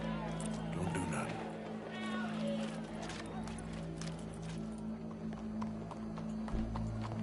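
A horse's hooves clip-clop steadily on the ground in the video game Red Dead Redemption 2, heard under background game sound and speech.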